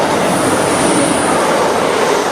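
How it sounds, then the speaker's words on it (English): A British Rail Class 185 diesel multiple unit passes close by without stopping, a loud, steady broadband roar of engine and wheels that holds evenly throughout. "this is the train we want. It is 185"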